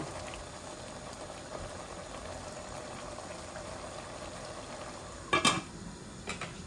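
Vegetables frying and being stirred in a pot while curry is cooked, with a steady close sizzle and bubbling throughout, then a few louder clinks and scrapes of a utensil against the pot near the end.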